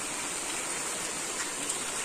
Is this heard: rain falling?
yes